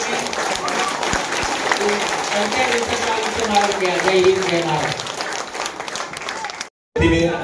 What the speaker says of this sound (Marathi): जर तुम्ही अशा टाळ्या 1 मिनिट वाजवल्या आणि कार्बन डायऑक्साईड बाहेर काढला